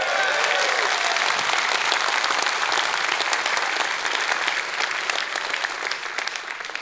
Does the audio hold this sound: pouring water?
no